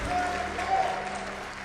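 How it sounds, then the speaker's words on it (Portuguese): Congregation clapping in a church service, a brief, soft patter of applause with a faint tonal voice-like line over it. "Dá uma salva de palmas bem alta e dá um glória aí"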